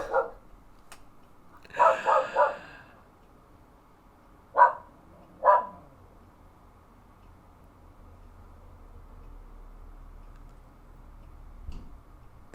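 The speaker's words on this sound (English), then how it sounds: "That's my dog Watson." A pet dog barks in a quiet room: a single bark, then a quick burst of three, then two more spaced barks, fairly close and loud against a low background hum.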